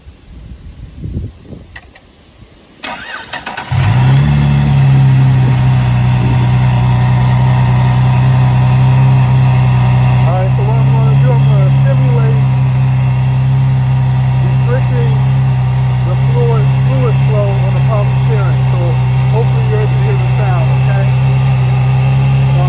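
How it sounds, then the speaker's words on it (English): A few seconds of wind buffeting and handling noise, then a supercharged Cadillac CTS 3.6L V6 engine cranks and catches, settling into a loud, steady idle with a deep drone. "let me start this thing up, okay?"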